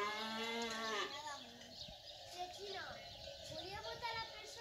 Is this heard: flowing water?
no